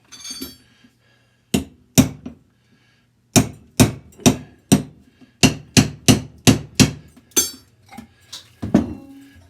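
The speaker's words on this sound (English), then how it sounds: "Tapped on it to loosen up the washer, and off it comes." Sharp metallic hammer taps on a wrench fitted over a washer on a Caterpillar Cat 60 tractor, a dozen crisp ringing strikes in irregular bursts with short pauses, close and loud.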